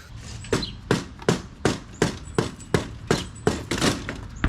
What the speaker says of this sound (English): we did have to beat the tires off with a hammer here.